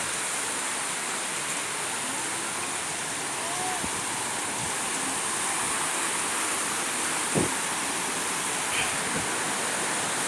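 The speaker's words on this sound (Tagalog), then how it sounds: "Makita na karon ang falls diri. Mao na ni ang Curtin Falls." Curtain Falls waterfall heard as a steady, broad rush of falling water, continuous and fairly even throughout, with a few faint brief knocks over it.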